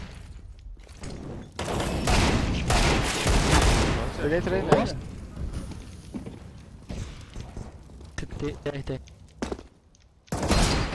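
Counter-Strike gunfire comes as bursts of shots and thuds, loud and clustered with short pauses between them. A commentator talks over much of it.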